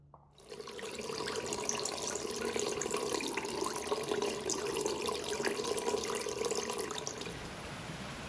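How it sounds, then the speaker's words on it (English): River water draining underground into a natural swallow hole in a riverbed, a steady gurgling rush like a draining plug hole, moderately close and continuous without voices. "Here you could quite clearly see the water disappear underground."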